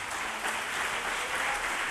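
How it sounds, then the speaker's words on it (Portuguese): A church congregation applauds throughout, a dense, steady wash of many hands clapping with no pause. "Você pode aplaudir o Senhor Jesus por isso?"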